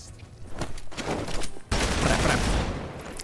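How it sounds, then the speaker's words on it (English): Rapid gunfire from a gun in the video game Marvel Midnight Suns, a dense burst of shots that swells louder halfway through, close and without talk. "That's the sound of my gat."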